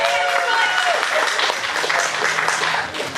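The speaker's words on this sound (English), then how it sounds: "just give them a round of applause" An audience applauds a dance company at a Chinese sword dance performance, dense sustained clapping filling the room, with voices mixed in and the sound easing slightly toward the end.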